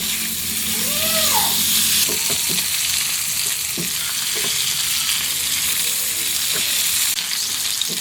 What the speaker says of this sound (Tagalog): Haluin natin yan once in a while hanggang mag-brown na po ang pork belly at lumabas po ang mantika niya